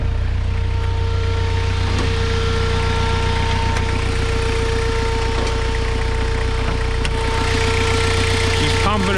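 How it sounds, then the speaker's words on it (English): A Suzuki Vitara's new electric thermo fan runs steadily after a drive around the block, a loud continuous whir and hum blended with the idling engine, close and constant throughout, with a voice talking over it. "The thermo fan's on now."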